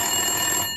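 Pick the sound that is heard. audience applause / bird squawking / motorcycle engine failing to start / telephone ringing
telephone ringing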